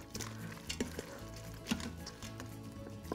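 Cooked, chopped bacon from six strips being stirred inside an Instant Pot, giving a soft sizzle with scraping and light clinks of a utensil against the metal pot, steady and close with no talking.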